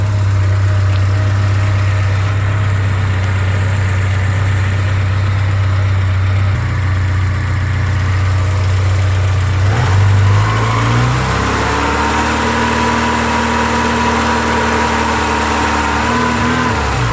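A cold 1986 Porsche 944 Turbo engine idles steadily with a low, even drone, then its pitch steps up and holds at a slightly higher, smoother note, loud and close with no voices.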